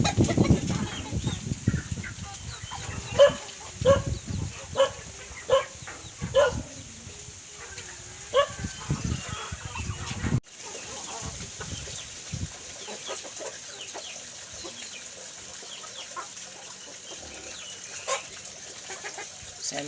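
Farm chickens in the Philippines cluck and chatter in short irregular bursts at close range, with scattered rustling and bird calls mixed in, and no talk.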